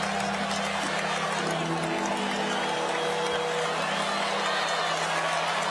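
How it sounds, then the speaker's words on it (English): Texas football fans cheer and roar in a stadium during an Alabama vs Texas game, a dense, steady crowd wash with faint voices mixed in, continuous throughout. "Those are the Texas fans you hear in the background cheering, holding their hook 'em horns signs in the air."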